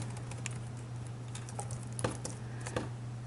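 Quiet keystrokes on a computer keyboard while typing into a document, a few scattered soft clicks over a low steady electrical hum.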